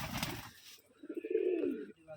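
Pigeons in a loft on a Rajshahi pigeon farm give a soft, low coo of about a second, close and quiet, following a brief burst of other noise.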